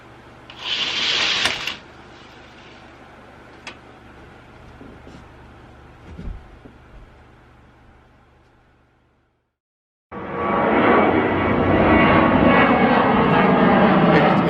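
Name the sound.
airplane doing a go-around over Utqiagvik, Alaska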